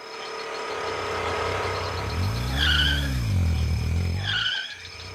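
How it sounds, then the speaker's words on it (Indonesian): A motorcycle engine in an animated scene revs up and passes nearby, its tone rising and then falling over a couple of seconds before cutting off, with a steady background hum throughout. "Suara motor"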